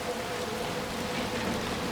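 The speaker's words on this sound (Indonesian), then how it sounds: "Oke, ini hujan loh." Rain in the video game Little Nightmares 2 falls as a steady, soft wash of broadband hiss, continuous and even, with no voices over it.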